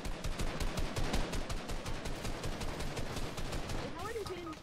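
Rapid bursts of automatic gunfire from a multiplayer shooter match, close and loud in dense rattling volleys that keep going, with a few synthetic effect tones near the end.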